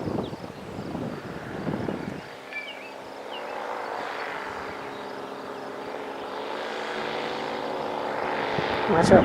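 A paramotor's propeller engine drones steadily as the pilot comes in to land, a continuous buzzing hum at moderate distance that grows slightly louder near the end, after a brief noisy start.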